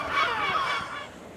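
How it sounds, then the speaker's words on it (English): Seagulls call noisily in the old town of Nessebar on the Bulgarian coast, a short burst of harsh, wavering cries at moderate distance that trails off, with no talking. "them noisy seagulls are following me"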